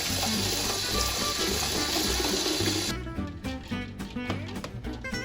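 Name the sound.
cold water poured into pot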